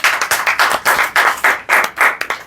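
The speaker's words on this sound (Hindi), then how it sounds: "हो सके तो ताली बजा लीजिए।" Clapping at a family gathering before a wedding, about eight bursts of separate rhythmic claps from a small group at close range, with short gaps between them.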